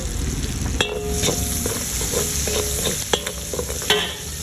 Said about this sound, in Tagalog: Lalagyan ko na ng paminta. Para mag-gisa na rin ang ating paminta.